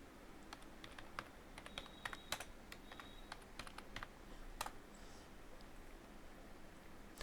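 Keys clatter on a computer keyboard as text is typed into an Excel spreadsheet, a quiet, irregular run of close clicks with short pauses and no talking.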